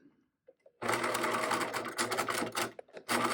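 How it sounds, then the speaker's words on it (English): A sewing machine runs fast through fabric in a continuous whirring burst, pauses briefly, then stitches again in short reverse bursts before stopping, close and clear. "I'm going to only stitch to this pin, and then I'm going to back stitch and stop."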